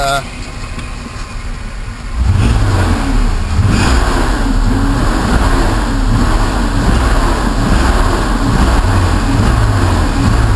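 A Mercedes-Benz 560SL engine revs up loudly as the throttle pedal is pressed, jumping from a low idle to a sustained, steady high rumble that holds for several seconds close by.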